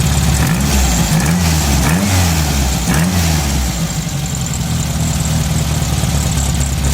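A car engine fitted with a CB Performance Magnaspark II ignition runs close by, a steady idle broken by a few quick throttle blips early on before settling back to an even, low running note.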